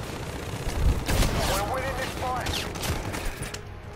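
Rapid bursts of video game gunfire crackle steadily and loudly, with a player talking over the shots.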